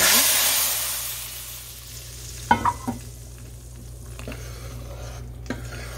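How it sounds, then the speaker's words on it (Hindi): Hot tempering (baghar) hits a pot of mixed daal with a loud sizzling rush that fades. A few clanks and stirring scrapes follow over a steady low hum. "हमारी बघार तकरीबन तैयार हो गई है और अब हम इसको दाल में डालते हैं"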